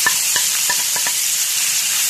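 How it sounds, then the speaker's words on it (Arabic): Minced meat in hot oil in a frying pan gives a loud, dense, continuous close sizzle, with a few light clicks of utensils against the pan, and no talk. "حطيت الزيت يا حبايبي اهوت في الطاسة، والصينية لما سخن عشان انزل عليه باللحمة على طول"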